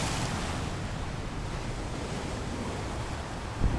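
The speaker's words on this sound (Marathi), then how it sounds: "तुम्ही समजू शकता की समुद्राला किती उधाण आलंय" Rough sea waves on a Konkan beach at Mithbav rush and roar in a continuous wash of surf, mixed with wind buffeting the microphone, loud and close with no voices.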